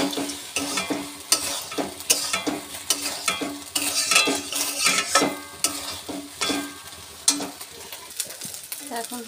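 Fried cashews and raisins stirred into a pot of Bengali polao rice, heard as repeated scraping and stirring strokes over a light sizzle, with clinks from the spoon and pot.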